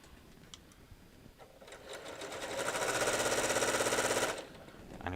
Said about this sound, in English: And you probably can hear the sewing machine.